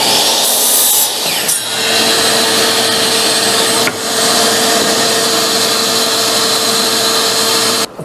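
A power tool drives 1.25-inch coated deck screws into the frame of a folding camping table, giving a loud, steady whirring drone that runs almost unbroken, with only brief dips.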